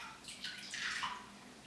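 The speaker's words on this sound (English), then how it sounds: "now it's at the top and it just overflowed" Water from a running tap spilling over the rim of a full bucket, a short close wash of splashing and trickling under a low steady rush.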